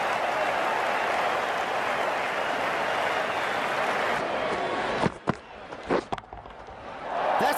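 Simulated stadium crowd in the cricket video game Cricket 19 cheering and applauding a boundary four, a dense, steady roar for about four seconds that then drops away into a few sharp knocks and quieter scattered noise.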